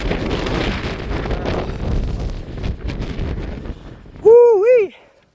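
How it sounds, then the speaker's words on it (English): Strong wind buffets the microphone on an open hillside walk along the Beacons Way toward Llyn y Fan Fawr, a steady roaring gust for several seconds before a voice whoops loudly near the end. "That wind."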